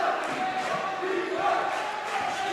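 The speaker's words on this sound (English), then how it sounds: "And the Lancer crowd fired up." A home crowd at a Norton Lancers high school basketball playoff game against Dover-Sherborn makes a steady, dense roar of cheering and chatter that fills the gym from start to finish.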